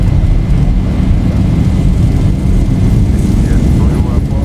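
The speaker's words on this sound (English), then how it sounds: "Press the toga button, and we're off. Takeoff thrust set." Jet engines of a Zibo 737-800 in X-Plane spooling at takeoff thrust, a loud, steady, dense roar with deep rumble that holds constant from start to end.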